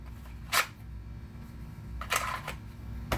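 A long-slide full-size Glock 34 pistol drawn from a Kydex hybrid OWB holster with adjustable retention: a crisp scraping click as the gun releases, then a couple more brief plastic snaps and rustles, close and isolated against quiet room tone.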